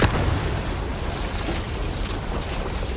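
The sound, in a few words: barrel being shot and exploding in a video game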